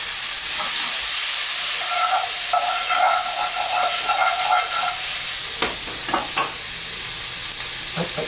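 Fajita chicken with seasoning and garlic sizzling and hissing steadily in a hot pan, with scraping stirring strokes toward the end, close and fairly loud.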